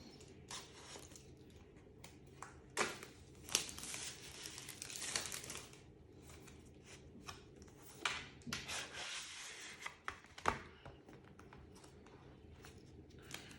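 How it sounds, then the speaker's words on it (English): Quiet crinkling, rubbing and tearing of packaging as an Apple Magic Trackpad is unboxed, with scattered sharp rustles and scrapes at close range, no talking. "I'm going to unbox the trackpad first"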